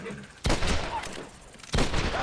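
Two sharp gunshots from Red Dead Redemption, the second more than a second after the first, each loud and close and followed by a brief reverberant tail over low background game sound.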